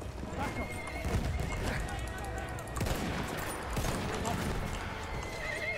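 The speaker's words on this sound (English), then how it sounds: "There's a horse in a Battlefield game." A horse in the Battlefield 1 video game whinnies loudly while its hooves clop in a quick rhythm, with gunfire crackling in the background and a voice speaking over the scene.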